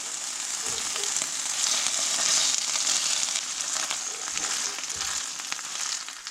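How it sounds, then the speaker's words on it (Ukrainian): Boiled bracken fern frying in oil with butter, a steady bright sizzle that holds close and even throughout, with a few soft scraping knocks in the pan. "Відварений папоротник я підсмажую на олії з додаванням вершкового масла"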